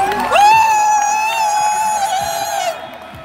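Crowd at a school Olympics prize ceremony cheering and whooping loudly for the winning team, a sustained high-pitched shout carrying over the din, with clapping underneath, fading at the end.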